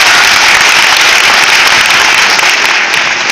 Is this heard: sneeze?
no